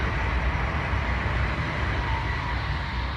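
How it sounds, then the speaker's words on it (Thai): Train rumbling past on a railway track near a garden allotment in Lund, Sweden, a steady broadband roar and low rumble at moderate level with no pauses and no voices. "ก็จะได้ยินเสียงรถไฟแทรกเข้ามานะคะ"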